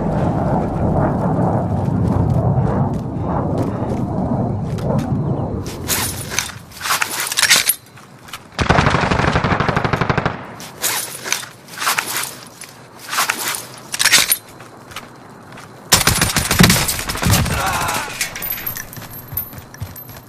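Close air support strike in a military shooter video game: a series of loud, harsh bursts of gunfire and explosive impacts, several separate blasts spread through the clip with brief quieter gaps between them.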